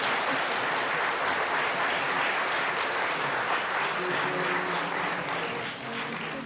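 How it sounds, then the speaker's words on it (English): Sustained television studio audience applause for the West Point Cadet Glee Club, thick and even throughout, many hands clapping together at a steady level. "Would you give a round of applause, please"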